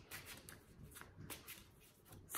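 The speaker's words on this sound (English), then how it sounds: "I really like the way they shuffle too." Tarot cards being shuffled by hand, a soft, rapid riffling and sliding of the deck in quick bursts, close and fairly quiet, with no talking.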